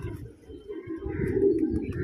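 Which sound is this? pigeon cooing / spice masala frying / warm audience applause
pigeon cooing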